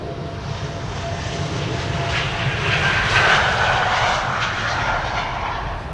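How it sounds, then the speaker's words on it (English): A Embraer 195-E2 jet takes off from Amsterdam Schiphol, bound for Edinburgh, its engines giving a steady broad roar that swells slightly near the middle and stays loud and sustained throughout. "E2 Embraer 195 to Edinburgh in the meantime"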